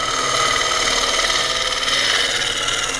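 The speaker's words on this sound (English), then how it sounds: "We got to take off that tenon on the bottom." A wood lathe spins a frozen wood bowl while the tenon is cut off its bottom, a loud, steady whirring drone with a gritty cutting hiss throughout, close by.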